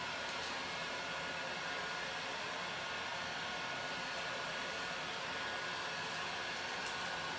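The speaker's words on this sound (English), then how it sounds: "I love my heat gun" A Tacklife heat gun with high and medium settings runs steadily and close, a continuous dense airy blower roar with no breaks.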